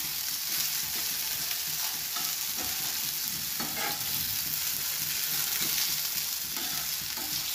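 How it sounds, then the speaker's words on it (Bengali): Soybean chunks fry in hot oil with a steady, dense sizzle and crackle, broken by occasional scraping stirs of a spatula in the pan; no one speaks. "আমরা শুধু সয়াবিনটাকে একটু তেলে ভেজে নিচ্ছি।"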